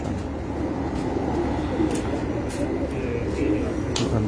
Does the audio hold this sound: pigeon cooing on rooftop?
yes